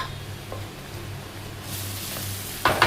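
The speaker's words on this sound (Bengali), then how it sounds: "এবার নারকোলটা ভেজে নিচ্ছি।" Grated coconut fries in oil for khichdi, a low steady sizzle that swells midway, ending with a sharp clatter of a utensil against the pan.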